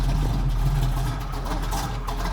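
A 1969 Chevy Camaro with a 425 hp engine idles close by, giving a deep, steady rumble with a slightly uneven low throb, alone without talk.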